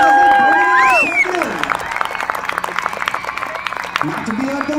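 Crowd roaring and applauding at a paratrooper jump landing, a dense wash of cheers and claps that swells after the opening second, with a voice talking over the start.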